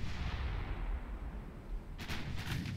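Naval gunfire from destroyer guns in the Ultimate Admiral Dreadnoughts warship game: a dull, steady rumble of distant cannon fire, with a few sharper bursts near the end.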